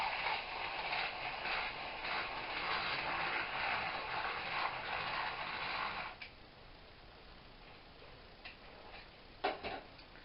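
A whisk beats a dried yeast mixture for Kentish huffkins in a steady rapid scraping rhythm that stops about two thirds through, leaving a few faint clicks and taps in near silence.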